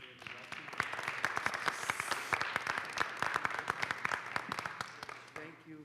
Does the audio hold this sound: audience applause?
yes